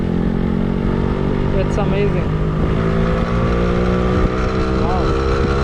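A Yamaha RX-135 motorcycle runs with a steady engine drone and wind rush throughout, while a person talks over it.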